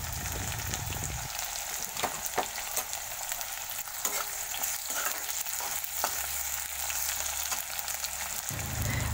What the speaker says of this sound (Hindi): प्याज को मैं भून लूंगी अच्छे से